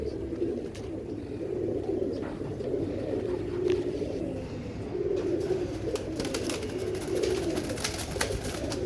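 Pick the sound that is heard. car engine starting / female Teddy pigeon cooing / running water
female Teddy pigeon cooing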